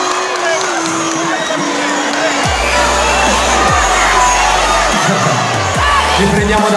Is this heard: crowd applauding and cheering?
yes